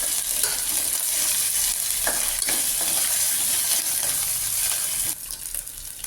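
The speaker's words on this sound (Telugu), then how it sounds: "కొంచెం జింజర్ గార్లిక్ పేస్ట్ కొంచెం ఫ్రై కావాలండి" Ginger garlic paste and mustard seeds frying in a pan with a steady bright sizzle, broken by occasional stirring scrapes, close and fairly loud throughout.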